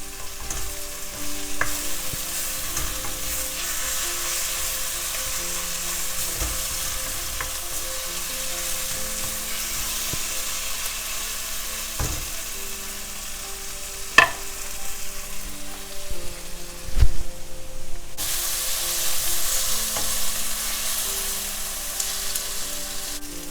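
Thin-leaved spinach (siru keerai) stir-frying in a pan over low heat for spicy fried rice, a soft steady sizzle with intermittent scrapes and clacks of a spatula stirring, no talk.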